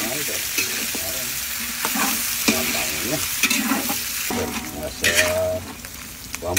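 Pork frying in its own rendered fat, seasoned with salt, with garlic added, sizzles loudly and steadily while a utensil stirs and scrapes the pan, with occasional sharper spatters.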